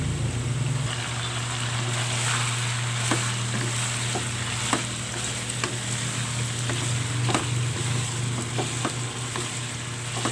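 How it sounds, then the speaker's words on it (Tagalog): Bite-sized pork pieces sauté in a hot pan with a steady close sizzle, punctuated by scattered clicks and scrapes of stirring. "Ilagay na natin ating pork cut into bite size. Gisa lang natin"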